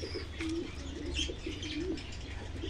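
Male Kalanka pigeon in a loft cooing close by, soft repeated low coos over a steady background murmur.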